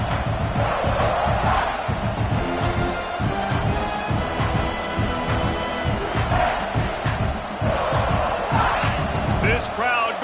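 A stadium crowd roars steadily in a simulated American football video game, a loud, unbroken wall of cheering and shouting with occasional thumps, under no spoken words.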